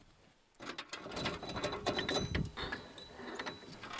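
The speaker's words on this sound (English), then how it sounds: "And then I'm going to tap on the nut. Always tap on the nut, never the spindle." A spindle nut on a Ford F-250 front axle is struck with a series of sharp metallic taps, close and fairly quiet, coming in uneven rapid bursts with no talk.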